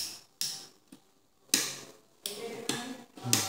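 A two-way hotel light switch snaps through several sharp, close clicks, spaced irregularly about a second apart, in a quiet room.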